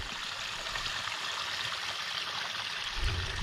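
A stream of fresh water trickles steadily on a remote Hebridean island, a soft continuous wash with no voices.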